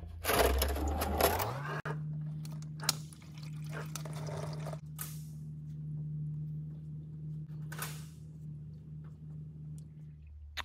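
Engine oil drains from a Volkswagen Golf 7 1.5 TSI during an oil change, a steady liquid stream trickling into a pan over a low constant hum, with a few clicks and taps near the start.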